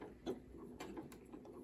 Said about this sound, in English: So let's start stitching.